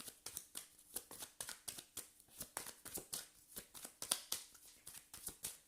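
A deck of tarot cards is shuffled by hand in quick, evenly spaced riffles and slaps, soft and close, with no talking over it.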